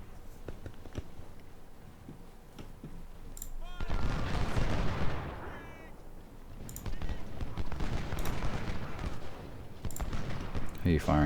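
Civil War-era troops open fire in the strategy game Ultimate General Civil War: scattered musket shots and cannon reports build into dense rolling volleys, with pauses between bursts and a voice talking over the battle.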